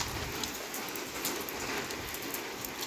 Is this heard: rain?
yes